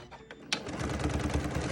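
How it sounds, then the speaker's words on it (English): A sewing machine stitches a quarter-inch seam along the flat edge of a quilted wristlet pocket and lining, a short burst of fast, steady mechanical whirring that starts after a brief click and stays close and loud. "just sew this flat edge, 1/4 inch or so"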